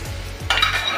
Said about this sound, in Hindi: अब इस समय हम डाल देंगे अपनी पंचमेल दाल।